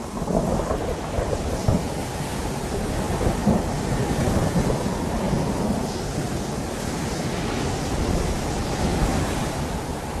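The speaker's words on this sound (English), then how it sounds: "Andrews fended off the bandits, but he and his team could not avoid the violent sandstorms that often sweep across the Gobi." A violent desert sandstorm sweeps across the Gobi, a loud, steady, broadband roar and rumble that fills the whole stretch without letup and with no voices.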